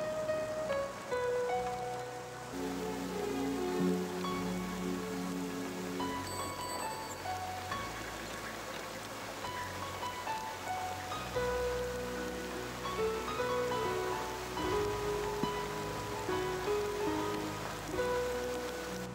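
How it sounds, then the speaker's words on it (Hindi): Rain falls at night in a Hindi-dubbed South Indian romantic film, a steady soft hiss of drops spread beneath a continuous musical score. "बारिश भी हो रही है"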